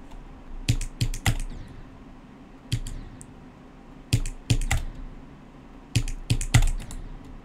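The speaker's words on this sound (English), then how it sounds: "I'm like holding my keyboard weird now because I need to place a checkpoint" A computer keyboard is typed on during a Geometry Dash extreme demon level, with clustered bursts of sharp key clicks separated by short pauses, close and clear with no talking.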